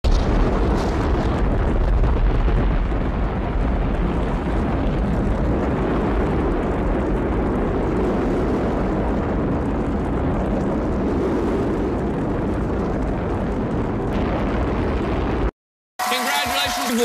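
A rocket ship launches with a loud, continuous roaring rumble that holds steady for about fifteen seconds before cutting off abruptly.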